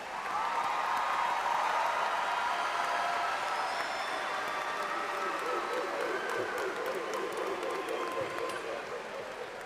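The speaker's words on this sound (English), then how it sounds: "Please join me in extending another round of applause for our doctoral graduates." Sustained applause rolls through a large crowd at a university commencement for doctoral graduates, a dense, even patter of many hands that holds steady and tapers slightly toward the end.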